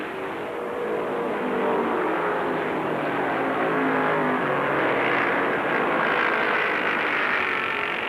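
A pack of stock cars roars off at the green flag, including Donnie Allison's Dyguard machine, Petty's Dodge and Yarborough's Chevrolet, a dense sustained engine drone that swells slightly and holds at moderate distance.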